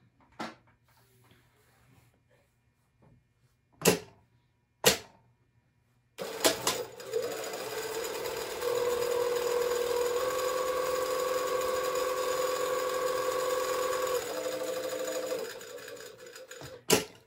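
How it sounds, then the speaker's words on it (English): A few isolated clicks and taps give way to a sewing machine running steadily up close, top stitching fabric with a 1/4 inch seam in one sustained, buzzing rattle before it slows and stops with a final tap. "I'm going to top stitch all the way around and do the 1/4 inch even along the bottom"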